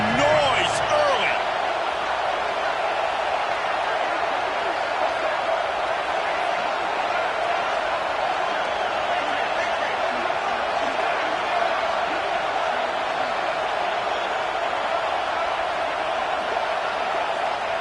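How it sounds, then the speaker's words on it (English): Stadium crowd at a college American football game between Texas and Arkansas, a steady, broad roar of many voices filling the whole stretch, with a brief burst of louder cheering near the start. "This crowd bringing the energy and noise early."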